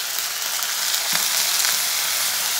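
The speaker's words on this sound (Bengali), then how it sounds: "গুঁড়ো মশলা দিয়েছি, তার জন্য আমি একটু হালকা করে জল দিয়ে দিচ্ছি" Water splashed onto ground cumin, coriander and turmeric frying for pointed gourd korma sets off a loud, bright, continuous sizzle close up, with a few brief stir scrapes.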